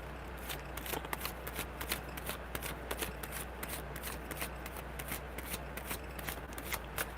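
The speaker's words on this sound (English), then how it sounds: "It was really good shuffling." Tarot cards shuffled continuously in a quick, steady riffling rhythm, close and distinct over a low background hum.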